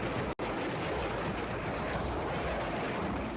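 A continuous crackling barrage of rapid explosive pops as a firecracker factory in Harda, Madhya Pradesh keeps exploding, like firecrackers going off in dense succession, heard from some distance with a brief cut near the start.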